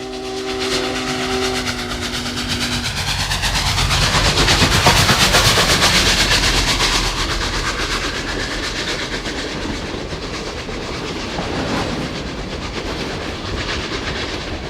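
Union Pacific 844 steam locomotive hauls its train past, a loud steady rumble with rhythmic clickety-clack of wheels and a brief steam whistle at the start, swelling as it nears and holding close.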